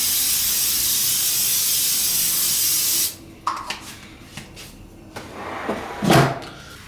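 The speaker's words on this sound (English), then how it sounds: "Let's go give a quick spray here." Cooking spray hisses onto chicken wings in an air fryer basket: one long, loud, steady spray, then silence broken by a few light clicks and taps and a soft clunk near the end.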